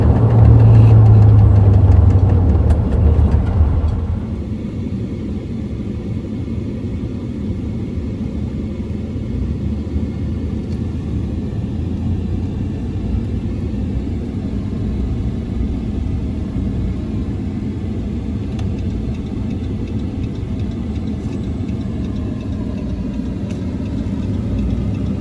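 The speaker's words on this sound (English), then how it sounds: "It's hard to drive a 455 and not want to unleash the beast." A 1972 car with a 455 big-block V8 rumbles loudly under throttle for a few seconds, then settles into a steady, constant engine drone and road rumble while driving; no voices.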